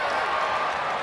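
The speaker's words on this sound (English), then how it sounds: "Crowd comes alive." Arena crowd at an NBA basketball game between the Denver Nuggets and Utah Jazz, a dense, sustained roar of cheering and applause with a commentator's voice faintly underneath.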